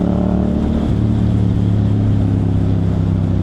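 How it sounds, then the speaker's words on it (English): A motorcycle's CP2 parallel-twin engine running loud and steady while riding, a dense continuous drone with a slight rise in pitch, close up and with no talking. "This is such a nice engine talaga."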